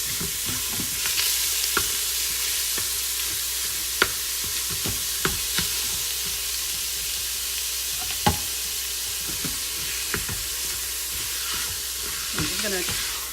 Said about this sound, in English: I'm just going to stir it so it doesn't stick to the bottom